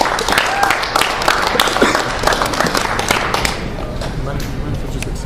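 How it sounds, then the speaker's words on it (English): An open mic crowd gives a round of applause, with loud, close clapping of scattered sharp claps that thins out over a few seconds while people talk alongside. "Give him a round of applause, please."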